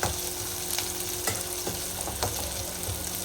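Frying sizzles and crackles steadily in a pan at close range, with small stir knocks and no talking.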